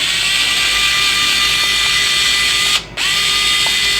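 A power tool whirs in a loud, steady high whine while the rear upper links of a Traxxas TRX4M RC crawler are unbolted, cutting out briefly before starting up again.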